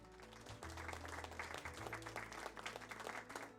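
Faint applause from a thankful crowd at an airport gate in Jubilife City, a steady patter of many hands clapping over a low hum, lasting the whole stretch.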